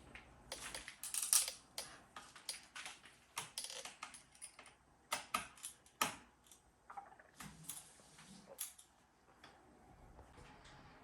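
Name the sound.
screwing screws back into a Lenovo Ideapad 330 laptop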